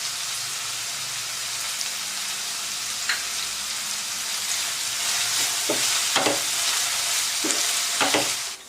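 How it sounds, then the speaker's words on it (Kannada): Carrots, beans and fresh green peas frying in oil in a pan for veg fried rice, a steady close sizzle with a few scraping stirs near the end, no voices. "ಕ್ಯಾರೆಟು, ಬೀನ್ಸು, ಹಸಿ ಬಟಾಣಿ ಎಲ್ಲ ಚೆನ್ನಾಗಿ ಫ್ರೈ ಆಗಿದೆ"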